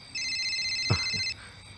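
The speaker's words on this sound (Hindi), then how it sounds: "भैया का फोन आ रहा है" A phone ringtone plays steadily for about a second, a bright electronic ringing tone, with a brief thump partway through and quiet surroundings.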